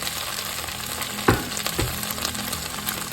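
Garlic and onions sauté in a pan over medium-high heat for a stir-fried bitter melon and beef dish, with a constant close sizzle and a couple of sharp stirring scrapes partway through, and no voices.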